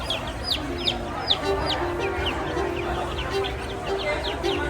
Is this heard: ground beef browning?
no